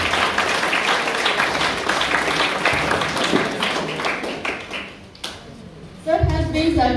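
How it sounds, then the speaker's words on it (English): An audience at a college function in Bengaluru applauds with sustained, dense clapping that fades briefly before a louder burst near the end, mixed with crowd noise. "A very big round of applause to sir."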